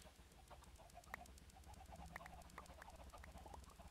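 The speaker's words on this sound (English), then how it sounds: "See, this is why I don't like going near the chicken coop." Chickens at a coop in a blocky sandbox video game give short scattered clucks over a steady low hum, faint and irregular, with no talking.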